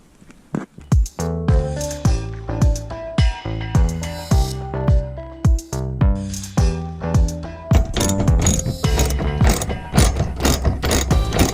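A ratchet tightens the bolts of a CURT 13315 Class 3 trailer hitch on a Mazda CX-5. Loud, close clicking comes in rhythmic bursts of strokes, then turns to faster, continuous ratcheting near the end.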